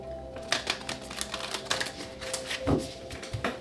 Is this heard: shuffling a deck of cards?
yes